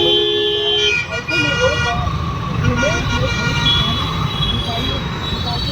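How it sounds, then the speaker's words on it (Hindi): Steady heavy traffic rumble on a main road in rainy Ranchi, India, with horns and a siren-like wail rising above it, continuous and fairly loud throughout. "आपकी गाड़ियाँ की सायरन सुनाई दे रहा होगा, गाड़ियों की गड़गड़ाहट सुनाई दे रही होगी"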